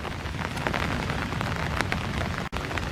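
Rain falls steadily at a park pond on a dark, foggy morning, a dense even patter of drops with no voices.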